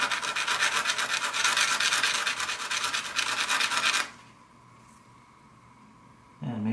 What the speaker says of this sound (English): So we're gonna sand them.